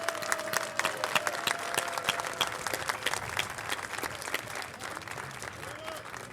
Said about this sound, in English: Let us clap for all of us.